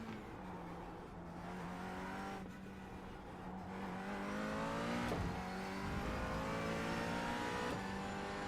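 Race cars run side by side in the iRacing simulator, with sustained loud engine whines and rising, shifting tones as other cars pull alongside and pass.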